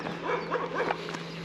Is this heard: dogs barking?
yes